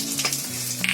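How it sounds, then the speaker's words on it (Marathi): Garam masala whole spices (two cloves, three black peppercorns, a little cumin and a small bay leaf) frying in hot oil, giving a steady close sizzle through a one-second burst with a brighter hiss near the end. "चांगला बघा गरम मसाला फ्राय झालाय."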